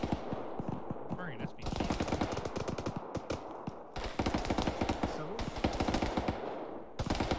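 Sustained automatic gunfire in the Arma 3 military shooter, dense rapid bursts of machine-gun fire continuing with brief pauses, loud and close, with faint voices underneath.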